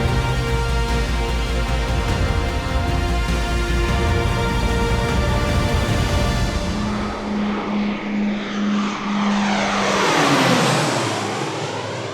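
A Pilatus military aircraft's propeller engine roars loud and steady at an air base, its tone shifting and sweeping downward as the plane passes by, with no talk over it.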